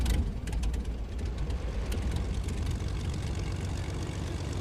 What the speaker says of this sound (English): I'm going to fly this plane back over.